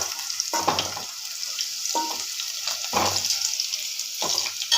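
Green chillies and onion fry in hot oil in a pan, making a steady sizzle with several soft stirring scrapes spaced across it, all close by with no talking.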